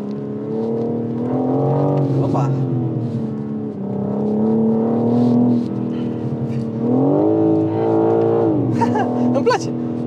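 A BMW M4 Competition on winter tyres pulls away on a wet road, its engine note rising and falling in steady acceleration pulls throughout, heard from inside the car under continuous conversation and an exclamation.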